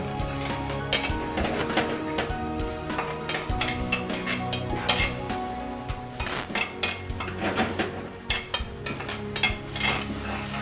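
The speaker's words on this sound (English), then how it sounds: "So I've been stirring it all up for a while now." Sauce stirred in a pan with a utensil, steady scraping and clinking against the metal at close range with a faint sizzle underneath, repeated strokes over several seconds.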